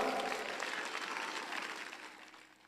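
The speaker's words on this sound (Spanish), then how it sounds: "Suéltele ese aplauso al Señor amado." A church congregation applauds during a worship service, producing a sustained, moderately distant spread of clapping that gradually fades out.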